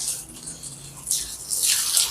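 Water pours onto freshly potted plants in a garden, a soft continuous splashing that swells louder toward the end.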